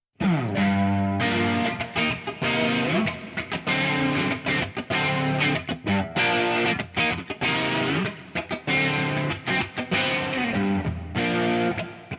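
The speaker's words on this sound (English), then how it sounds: "I really love the LF saturation 1 on this guitar" Electric guitar with heavy saturation from an Arturia LF saturation effect plays a continuous riff of sustained, gritty notes, loud and close, with no voices.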